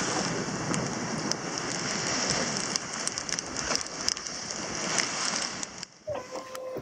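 Rain hisses steadily onto a sailboat at sea, a dense close patter with scattered louder drops and splashes, easing off near the end.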